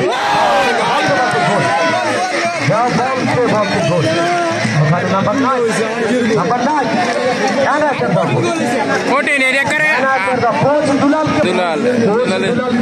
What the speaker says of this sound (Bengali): উল্লাস দেখতে পাচ্ছি।